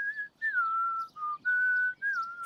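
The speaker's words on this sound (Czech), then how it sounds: "Pískání je potřeba dlouho cvičit." Sustained whistling in a few long held tones with brief gliding pitch changes and short gaps, clear and close, with no talking.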